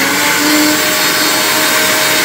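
A mixer grinder runs steadily, churning butter with water in its jar, a loud continuous whirring drone with a faint tonal hum that holds evenly from start to finish.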